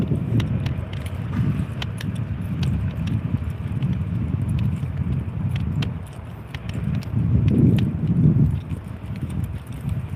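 Irregular soft clicks and snaps, like gum being chewed close to the microphone, over a rumbling background of wind and passing traffic.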